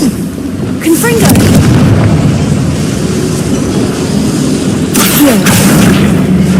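A Confringo fire spell bursting in the Hogwarts Legacy game, two loud booming blasts with rumbling tails, the second following about four seconds after the first, over dense game ambience.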